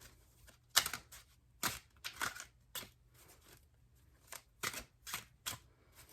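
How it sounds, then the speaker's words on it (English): A tarot deck being shuffled, cards riffling and slapping in short irregular bursts with quiet pauses between, close and fairly soft with no talking. "It's like my deck won't shuffle quite as well right now for you guys."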